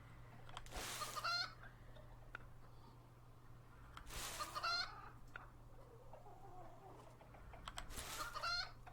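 Chickens cluck in the REKA video game, with a few brief bursts of clucking spaced several seconds apart over a steady low hum, moderately quiet and with no voices.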